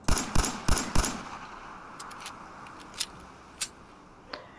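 Pistol handling for an M1911 in a Fallout 4 weapon mod: four sharp, evenly spaced metallic clicks and clacks, then a few fainter, sparser clicks, close and alone without speech.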